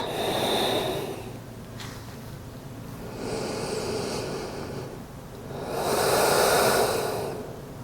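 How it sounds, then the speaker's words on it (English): Slow, deep breaths during a yoga child's pose with the arms stretched, three long airy inhales and exhales close to the ear, the last one loudest, with no talking. "And deepen the breath."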